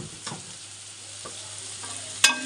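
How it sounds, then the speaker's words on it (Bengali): Onion, half fried and with turmeric being added, crackles softly in a hot pan for a steady, quiet sizzle, with a few scrapes as it is stirred and one sharp clink near the end. "এখানে দেখো পেঁয়াজটা আমার অর্ধেক ভাজা হয়ে গেছে, আর এখন আমি একটু হলুদ দিয়ে দিচ্ছি"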